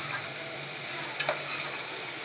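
Bitter gourd curry with jaggery and dried red chillies fries in a cooker, a soft steady sizzle with a brief stir of the spoon midway, no talking.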